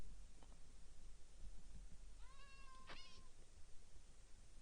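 A single clear cat meow in Minecraft rises and falls over a constant low background hum, with a few soft clicks before it.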